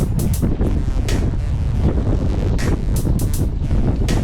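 A cold north wind buffets the microphone of a cyclist out on a lumpy road, a loud steady roar with no let-up and a few brief, sharper hissing gusts.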